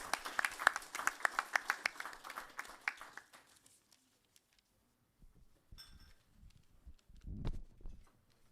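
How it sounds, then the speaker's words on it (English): Conference audience applause, a short burst of scattered clapping that thins out and stops within a few seconds, followed by quiet room noise and faint handling sounds. "a round of applause to all presenters and discussants"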